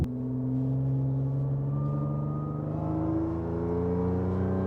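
Tuned Audi S5 pulling hard after an upshift, its engine note droning loud and steady from inside the cabin as the pitch slowly rises under full throttle.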